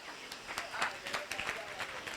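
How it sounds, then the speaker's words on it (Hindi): Audience at a Ramlila performance clapping in a faint, scattered burst of individual claps at a moderate distance, the sharp hand claps spaced unevenly across a couple of seconds. "ताली बजाइए रामन"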